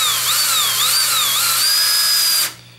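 A Milwaukee impact driver in low gear sinks a Phillips drywall screw into 3/4 inch maple, a loud, steady whine that rises and dips in pitch before cutting off abruptly near the end.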